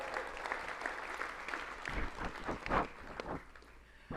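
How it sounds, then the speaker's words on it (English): A live audience at a youth stage event applauds in a dense, steady wash of clapping that holds for several seconds before tapering off. "give a round of applause"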